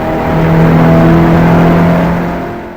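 A Subaru Legacy wagon's engine drones through a fast race lap at High Plains Raceway, a steady tonal roar heard from inside that swells and then eases off as the car holds its pace.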